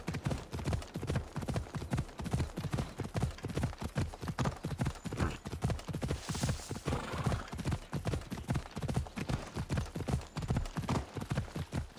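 Horse hooves clip-clopping in the video game Assassin's Creed Odyssey, a fast, steady rhythmic trotting beat that runs throughout at moderate volume, with a faint whinny partway through.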